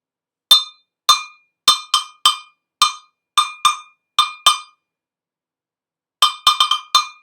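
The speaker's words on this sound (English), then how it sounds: "That one's my favorite. That's the cowbell." A cowbell struck in a steady run of eight sharp metallic clanks, a short pause, then a quick burst of five more, bright and close, with no voices.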